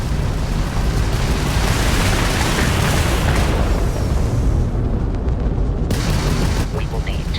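Crimson Fleet ship weapons firing during a space battle in the video game Starfield, a loud, sustained roar of booming blasts and rumbling explosions that drops off briefly near the end before surging again.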